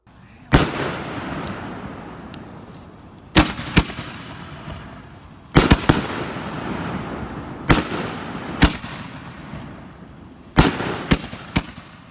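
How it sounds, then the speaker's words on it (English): Glitter fireworks bursting with shimmering, blinking effects: about ten sharp loud bangs at irregular intervals, some doubled, each followed by a crackling, fizzing decay. "Glitter. Shimmering lights that blink after the explosion."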